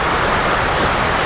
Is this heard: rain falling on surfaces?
yes